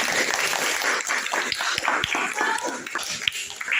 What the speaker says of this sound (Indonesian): Oke, kasih tepuk tangan dulu teman-teman.